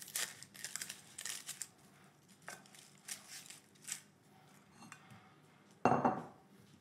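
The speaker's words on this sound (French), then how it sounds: "je vais commencer par peler l'oignon" An onion being peeled by hand for a risotto: faint papery crinkles and small kitchen clicks, quiet and close, ending in one louder rustling burst.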